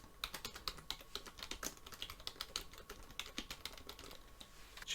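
Quiet, steady typing on a computer keyboard while entering code in Blender Python, a brisk run of light clicking keystrokes with no pauses, close and faint.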